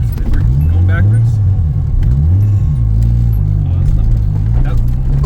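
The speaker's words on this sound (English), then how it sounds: "I will now demonstrate this twin disc clutch, which I'm not good at." Big-turbo RB25-swapped Nissan 240SX with a twin-disc clutch, driven in reverse, its engine a steady close low drone whose pitch swells and dips as revs rise and fall, without a break.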